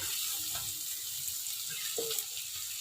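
Spice paste hits potatoes frying in a pan for a Bengali jhinge posto dish, giving a soft, steady hiss with a few faint stirring clinks, fairly quiet and without talk.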